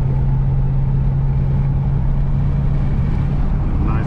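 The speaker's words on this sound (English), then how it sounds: "I don't know if y'all can hear that supercharger." A Dodge Hellcat Widebody's supercharger gives a steady tonal whine over a continuous low engine drone from inside the car, unbroken and fairly loud throughout.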